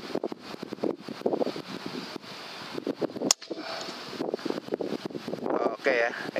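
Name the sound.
strong wind outdoors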